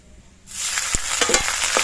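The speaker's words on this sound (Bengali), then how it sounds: "এবার এই ফোড়নগুলো আমি লাল রং করে ভেজে নেব।" Whole spices for a tempering hit hot oil with a sudden loud sizzle, then keep crackling and popping close up, with a few sharp spits, while making gourd dal.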